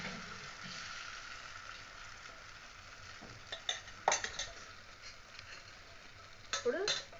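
Dosa batter spread thin over a hot pan, giving a steady soft sizzle throughout, with a few light scrapes and clinks of a ladle toward the end.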